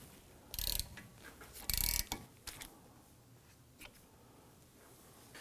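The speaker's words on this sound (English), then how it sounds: "So I'm going to put that on my ratchet. I want to go ahead and loosen these." A ratchet fitted with a number 9 Allen key loosens the brake caliper bolts on a 2003-2014 Volvo XC90 during a front brake job, giving two strong bursts of rapid ratchet clicking followed by a few fainter clicks, close and without talk.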